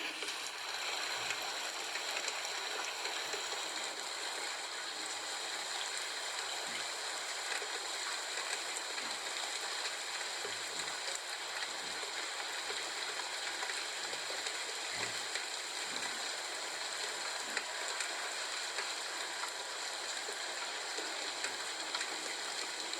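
Autumn rain falls outdoors in a soft, steady patter that is faint and constant, with no voices.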